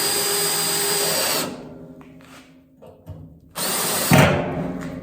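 A power drill drives screws through the metal flue of a wood stove kit, giving two loud whirring bursts separated by a quieter gap with small knocks and handling sounds.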